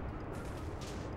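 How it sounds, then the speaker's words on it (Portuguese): Huge atomic bomb blast in Minecraft, a loud, dense roar of rumbling explosion noise that fills the whole moment without a break and with no voices over it. "É gigante a explosão que ela tá fazendo."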